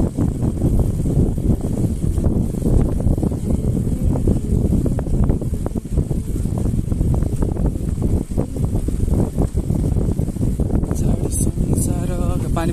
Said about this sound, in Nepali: पानी पल्ला अस्ति चिसो हावा चल्ला छ